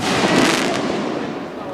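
A 4th of July fireworks show booms and crackles in a loud, dense wash of bursts, with sharp cracks near the start and a sustained sizzling roar after them.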